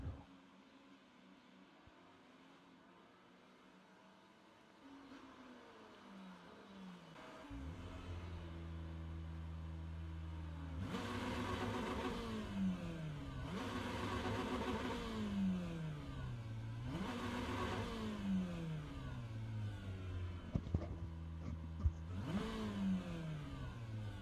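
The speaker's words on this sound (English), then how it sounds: "I hear a revving Ferrari on the stream" A Ferrari race car in the iRacing sim revs hard and repeatedly, its engine note sweeping up and down in loud, rhythmic bursts after a quieter idle and build-up, with no talk over it.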